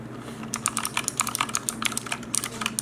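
Typing on a Razer Huntsman Mini keyboard with purple switches, a close, crisp, uneven patter of clicky keystrokes with brief pauses, no voices.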